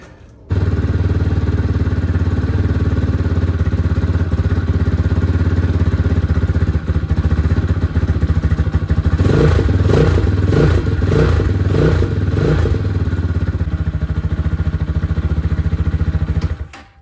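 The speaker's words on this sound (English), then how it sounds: "Bike fired right up." Idling X-Pro Templar 250 motorcycle engine after a carburetor jet swap, a steady, loud single-cylinder putter that blips through a few quick throttle revs partway through before settling and cutting off.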